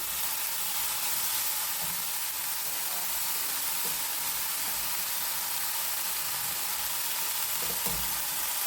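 Masala half-fried in a pan for paddu gives a steady, even sizzling hiss that holds at a constant level throughout, with no voices.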